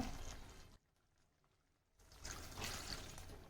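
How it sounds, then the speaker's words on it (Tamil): Water poured into a pan of orange fruit gojju gravy gives a soft, faint splashing trickle. It stops for about a second and then resumes more strongly, with no talking. "இப்போ நம்ம இந்த தண்ணியும் இதில் சேர்த்துடலாம்"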